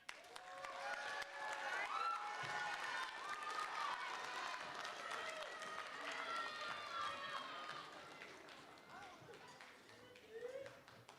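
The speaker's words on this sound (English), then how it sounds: "thank you for clapping for our warm-up" Audience applause after a school concert band's warm-up at a holiday concert, a dense wash of many hands clapping at moderate distance, fading slightly toward the end with voices mixed in.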